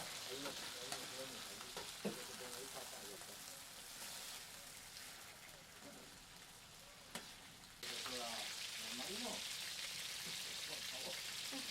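Meat fries and sizzles in a paella pan while being stirred now and then, a steady close crackle with occasional scraping, growing louder and brighter toward the end.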